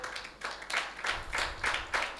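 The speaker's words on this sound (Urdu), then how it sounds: "یسوع مسیح کے لیے تالیاں بجاؤ کلیسیا" A church congregation claps for Jesus Christ in a steady rhythm of about eight or nine beats, moderately loud and unaccompanied by voices.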